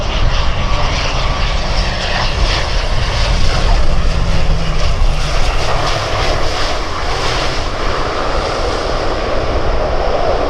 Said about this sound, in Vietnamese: chiếc ATR72500 thực hiện chặng bay từ Côn Đảo về đến sân bay